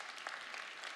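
Brief, fairly faint clapping from a church congregation at a Fourth of July service, a short burst of scattered hand claps with no speech.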